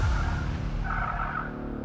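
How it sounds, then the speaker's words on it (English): An electric Formula E race car warms its tyres indoors in an exhibition hall, with a loud, continuous low rumble and a rising tyre skid and squeal across the clip. "He's warming tyres, have you seen this?"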